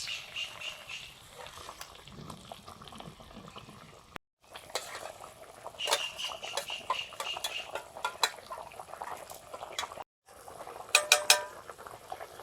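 Green chillies and fried fish going into a pot of fish curry, with clinking and scraping of a utensil against the pot and a few short sharp clanks, close by and moderately loud with no talk.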